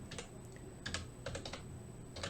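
Keys tapped on a computer keyboard, quick irregular clicks in small clusters, faint and close over a steady electronic hum.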